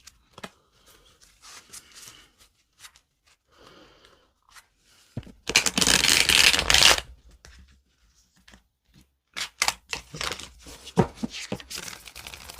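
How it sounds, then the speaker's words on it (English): Tarot Del Toro tarot cards being shuffled in the hands, a loud dense riffling burst of about a second and a half, then scattered softer card taps and rustles, close and with no talking. "So let's do a little shuffle test now, you guys, and see how they shuffle."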